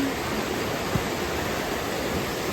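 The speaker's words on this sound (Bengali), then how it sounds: "ঝর্ণা পেয়ে গেছি" A forest waterfall at the Sidhamula nature camp in an Odisha sanctuary pours with a steady, dense rushing roar, unbroken and fairly loud throughout with no voices.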